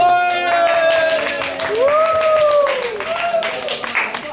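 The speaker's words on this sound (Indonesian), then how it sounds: "Tepuk tangan dulu." Steady clapping from an audience runs throughout, while voices call out and cheer over the applause.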